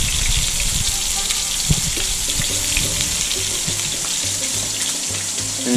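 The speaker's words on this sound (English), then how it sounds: "there's our steak sizzling inside the pan" Yak meat steak seasoned with salt and pepper sizzles steadily in a pan, a constant hissing fry running throughout with faint kitchen clatter and a low hum underneath.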